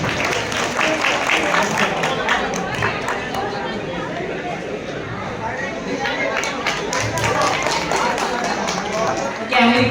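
Audience at a stage event at a creator fanfest clapping together, a dense ripple of applause and crowd chatter that holds throughout, with a voice speaking over it at times.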